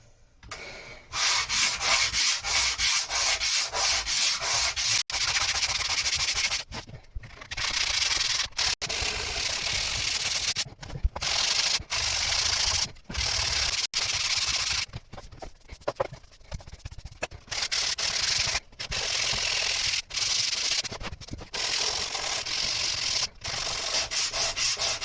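Wood is sanded by hand in long continuous rasping strokes, loud and close, with brief pauses between passes.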